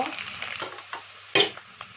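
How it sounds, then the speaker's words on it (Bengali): Rice frying with spices in a pan for a winter muri ghonto, a soft crackling sizzle with a couple of sharper stir scrapes over two seconds, near and moderately quiet. "তোমরা মনে হয় শুনতেও পাচ্ছ ভিডিওতে এই চালটা ফুটছে"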